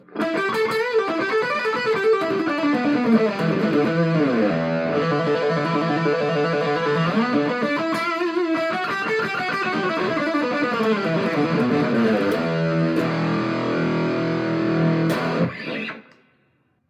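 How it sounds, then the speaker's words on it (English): Sustained electric guitar lead through a Joyo Dark Flame distortion pedal, loud and singing with long held notes and bends, playing alone before cutting off abruptly near the end. "you can really crank up the gain and get some great, powerful, soaring lead tones"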